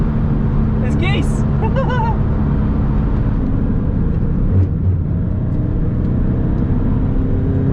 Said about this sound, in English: Just getting the car warmed up for now, and then we'll do a flying lap at the next one.